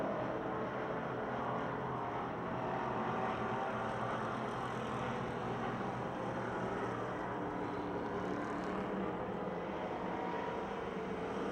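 Pure Stock race cars roar around Pennsylvania Motor Speedway in Pittsburgh during a heat race, a dense, steady engine din from the pack filling the whole stretch without letup.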